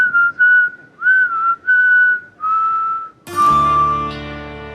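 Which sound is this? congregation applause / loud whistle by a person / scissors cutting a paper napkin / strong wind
loud whistle by a person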